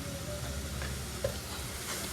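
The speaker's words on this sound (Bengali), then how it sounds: "আর একটু নাড়াচাড়া করবো ফ্লেমটা আস্তে রেখে, কারণ মশলাটা কষতে হবে" Spices such as turmeric, chilli powder and home-made roasted masala being stirred in a pan over a low flame, giving a steady soft sizzle with a brief scrape of the spoon partway through.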